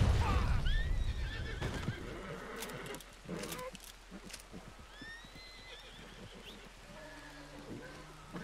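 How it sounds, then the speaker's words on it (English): A horse in the video game Red Dead Redemption 2 lets out a whinnying neigh at the start, followed by a few quieter snorts and hoof clops against faint rain. "That horse isn't happy."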